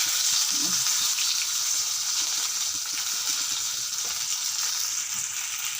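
Fish frying in a home kitchen pan, giving a continuous dense oil sizzle at steady loudness with a few soft clinks, and no voices.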